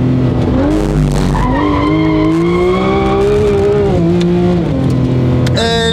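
A Porsche GT3 RS brakes hard on a race track, tyres squealing loudly and continuously with the engine note dropping and shifting, close and dominant with no talk.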